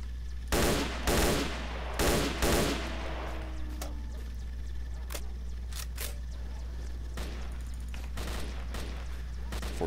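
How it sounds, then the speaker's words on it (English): Gunfire in the video game STALKER Shadows Addon: a quick cluster of four sharp shots near the start, then scattered fainter distant cracks over a steady low background hum. "sounds like a lot of gunfire still"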